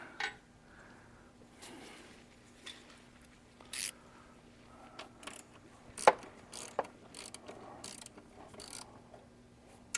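Ratchet loosening throttle body bolts, heard up close as short scattered bursts of crisp clicking with quiet pauses and faint handling noises between them.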